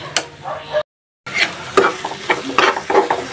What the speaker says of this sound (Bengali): কাঁচামরিচ দিব একটা খালি করে। একটু কষায় নিই।